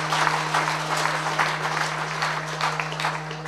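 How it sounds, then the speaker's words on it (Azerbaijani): Audience at a folk concert of an ashiq singer applauds steadily, a dense, even wash of clapping that continues throughout over a constant low hum. "Sizdən çox xahiş edirəm, Zülfiyə xanımı mənim xətirimə ürəkdən alqışlayasınız."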